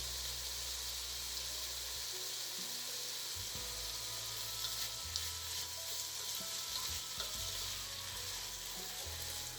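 Chicken marinated in oyster sauce, garlic and pepper sizzles as it stir-fries in a pan, a continuous crackling hiss with occasional stirring scrapes, close by and without talk.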